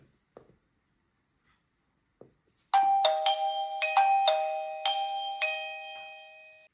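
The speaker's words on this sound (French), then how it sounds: "on va appuyer sur le bouton de la sonnette pour que la sonnette envoie un signal d'appairage au carillon" An ieGeek Bell J9 smart doorbell chime rings out a bright multi-note melody after a few faint button clicks, the tones ringing and overlapping before fading.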